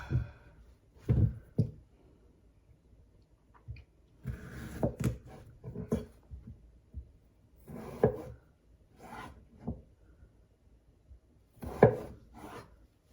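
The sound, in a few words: knife cutting cucumbers into bite-sized pieces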